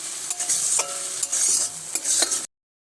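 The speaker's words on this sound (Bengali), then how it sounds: "নিরে মাছটি দিয়ে এইভাবে ভালোভাবে নাড়াচাড়া করবেন কড়ার তলায় না বসে যায়" Utensil scraping and stirring through a fish filling with turmeric in a hot wok, with a steady sizzle underneath and a few sharper scrapes at intervals.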